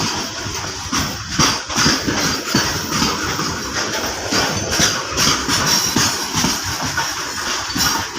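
A goods train moves along railway tracks at a station, a loud rumbling roar with a rhythmic beat of wheels clacking over rail joints that continues steadily throughout.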